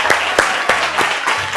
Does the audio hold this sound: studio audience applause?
yes